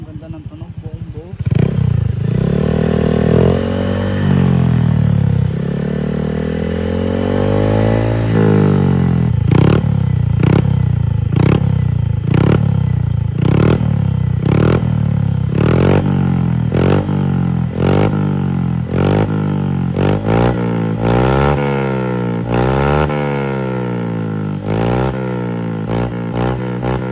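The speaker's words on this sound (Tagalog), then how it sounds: "muffler para sa Honda Beat V3 na plug and play mga boss, hindi na kailangan ni paritubo" A Honda Beat V3 scooter fitted with a plug-and-play aftermarket KVIN muffler revs up loudly and close by, with repeated throttle blips and a deep, full exhaust note that rises and falls through the clip.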